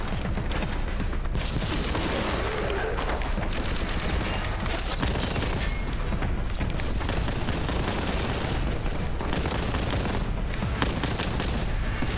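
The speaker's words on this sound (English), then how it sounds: "Who's shooting at me?" Heavy continuous gunfire and booming blasts from the retro shooter video game Boltgun, a dense, loud barrage filling the whole stretch with no talking.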